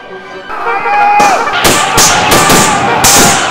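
Battle gunfire from Totally Accurate Battle Simulator, a loud burst of several sharp cracks and booms in quick succession over a rumbling, chaotic background.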